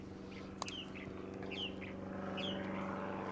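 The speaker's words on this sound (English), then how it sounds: "that's the thrasher though." A thrasher sings from the chaparral and sage scrub near San Diego, with short whistled phrases repeated at a moderate distance over a steady low hum of traffic or engine noise.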